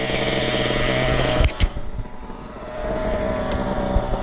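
A nitro engine on a 1/8-scale RC buggy runs nearby with a continuous, high-pitched buzzing whine that dips briefly and then steadies again, with no talk.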